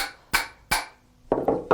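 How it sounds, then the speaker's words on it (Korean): A hammer taps the main blade into a wooden hand plane body. Five sharp, woody knocks land close and loud: two evenly spaced strikes, then a quicker cluster of three, with no talk between them. "껴넣는 방식은 먼저 어미날을 망치로 쳐서"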